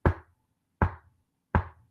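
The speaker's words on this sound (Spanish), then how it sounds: "Vas a tocar la puerta." Three firm knocks on a door, evenly spaced about three-quarters of a second apart, each sharp and close with a short resonant decay, and silence in between.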